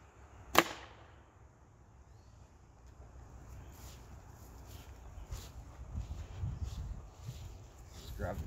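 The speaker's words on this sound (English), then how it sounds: "Punching holes in plywood with a slingshot." A flat band slingshot shot punches through a fresh sheet of 7/16-inch OSB: one sharp, loud crack early on, followed by quiet handling noise and faint footsteps.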